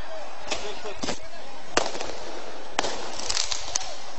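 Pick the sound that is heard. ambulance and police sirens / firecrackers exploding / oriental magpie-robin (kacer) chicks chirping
firecrackers exploding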